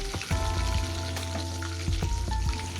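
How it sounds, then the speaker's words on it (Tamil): Mutton meatballs lightly frying in oil, a steady sizzle with a low hum beneath and several sharp clinks and scrapes from turning them in the pan. "இந்த மாதிரி லைட்டாக வறுத்து எடுத்தால் போதும், ரொம்ப வேகணும்னு இல்லை."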